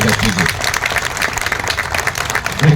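A crowd at a Congress election rally in Gurgaon bursts into loud, dense applause that carries on steadily throughout.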